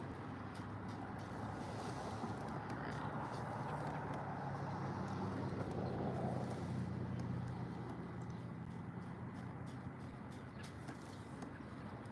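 Wind blows steadily across open water during kayak fishing, a constant broad rushing roar with soft wave wash and some microphone buffeting, no talk.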